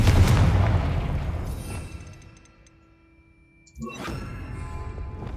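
A Confringo fire spell blasts in Hogwarts Legacy, a heavy booming explosion that decays into a long rumbling tail, followed by a quieter thud and renewed game ambience.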